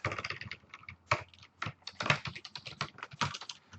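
Rapid, uneven typing on a computer keyboard while an equation is entered, close and crisp, with clustered keystrokes and short pauses, no talking.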